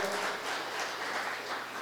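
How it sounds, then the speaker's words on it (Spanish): A church congregation applauds in a steady, dense wash of clapping that fills the room evenly, brief and without any voice over it. "Denle un fuerte aplauso a Dios."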